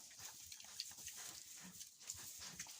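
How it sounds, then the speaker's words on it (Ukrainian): Piglets scurrying and rooting about in straw, with soft snuffling, grunting and mouth-smacking sounds in irregular bursts, fairly quiet and close, with no talking. "Поросятка ось бігають, шукають щось у соломі, люблять гратися, плямкають."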